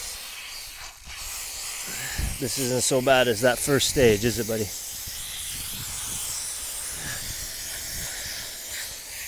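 Water sprays from a hose onto a dog during a bath, a steady hiss of spray running throughout, with someone talking briefly over it near the middle.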